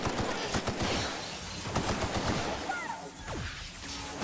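Rapid bursts of gunfire from an upgraded gun in The Outer Worlds, sharp repeated shots in quick volleys with clattering impacts, loud and close, no talking.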